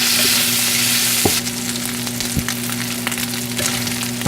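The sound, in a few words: bacon frying in a pan, rendering out the fat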